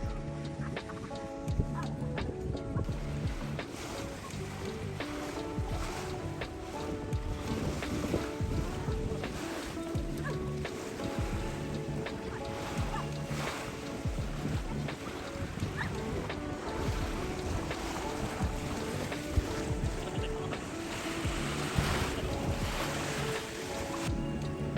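Ocean waves wash steadily onto a beach shore close to a coral reef, a continuous broadband surge with wind buffeting the microphone throughout and no voices.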